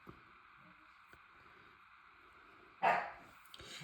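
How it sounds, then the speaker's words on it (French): Dog barks at a cat perched up high: a single sharp bark rings out near the end, with a faint yip after, against an otherwise quiet room. "Lily est en hauteur, donc du coup, il aboie pour essayer de l'atteindre"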